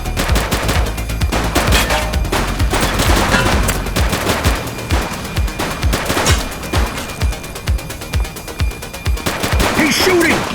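Rapid bursts of video game gunfire in The Precinct crackle almost without pause, loud and close, with sharp machine-gun volleys mixed with single shots and faint voices underneath.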